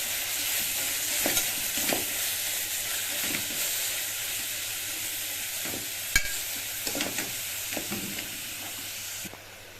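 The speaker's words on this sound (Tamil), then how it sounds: "இது வதக்கும் போதே நல்லா சவுண்டு கேட்குது பாருங்கள்" White pumpkin being sautéed in a pressure cooker: a constant close hiss and sizzle of moist vegetable cooking, with intermittent stirring scrapes against the metal pot and one sharp clink, no voices.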